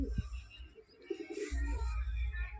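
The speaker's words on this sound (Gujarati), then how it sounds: "જોઈ લ્યો આપણો કબૂતરો નંબર 1 છે।" A kept flying pigeon gives low, throaty coos in short repeated bursts close by, with faint background sounds from the loft.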